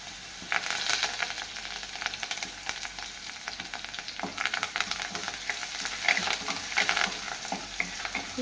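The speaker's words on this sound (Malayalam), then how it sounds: "നമുക്ക് ഇച്ചിരി ഉള്ളി ഇട്ട് കൊടുക്കാം കേട്ടോ. ഉള്ളിക്കകത്ത് രണ്ട് മുളക്, ഉണക്കമുളക്, കരിവേപ്പില." Onion, dried red chillies and curry leaves fry in hot oil with a steady close sizzle, crackling and spitting throughout, with stirring clatter and no voices.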